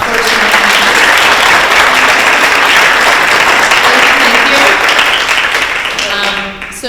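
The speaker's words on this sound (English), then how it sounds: "So I'm one last round of applause for our first round." An audience at a public talk on microplastic in Narragansett Bay breaks into loud, sustained applause that fills the room and fades out toward the end.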